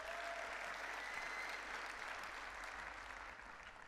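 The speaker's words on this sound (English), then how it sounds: "Yes, you can applaud if you want for that." A keynote audience at a Microsoft 365 conference breaks into sustained applause, a broad, steady wall of clapping with a low hum underneath, fading slightly toward the end.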